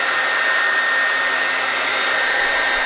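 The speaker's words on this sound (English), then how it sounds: "I'm gonna use the hairdryer to speed up the process and dry the hat." A hair dryer blows steadily and loudly while drying a tiny cowboy hat, a constant airy whoosh with a high whine and no pauses.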